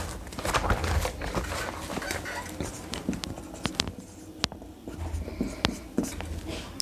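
Chalk or a marker scratches across a classroom board in short strokes and taps during a Hindi-medium psychology lesson, over a hissy room background.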